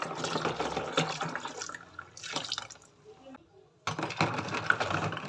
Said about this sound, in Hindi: और इसमें शामिल कर देंगे 1 गिलास पानी का।